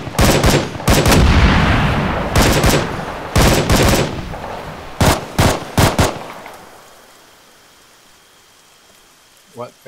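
Rapid bursts of rifle and machine-gun fire in an Arma 3 firefight defending a factory, loud and close in clustered volleys, then fading to quiet with a faint distant shot at the end.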